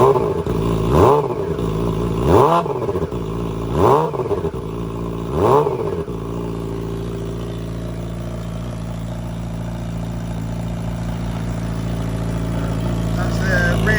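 A Yamaha R6 sport bike exhaust with its baffle fitted, revved four times in sharp, loud bursts about every one and a half seconds, then left settling into a steady idle that carries on to the end.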